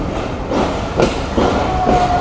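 The Banglabandha Express, with old Indonesian-built coaches, rumbles past at close range at Rajshahi railway station, rhythmic clattering surges roughly every half second over a steady mechanical hum.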